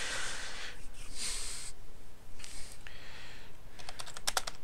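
Quick, light clatter of keys on a computer keyboard, typed in short uneven bursts close by, with a soft breathy pause between runs and no talking.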